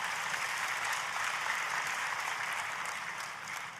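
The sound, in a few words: church congregation applauding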